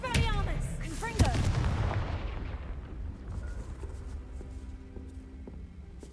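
Hogwarts Legacy spell effects as the Confringo spell is cast, a sharp blast with a bright crackling burst near the start, a second punchy impact about a second in, then a fading rumble and quiet game ambience.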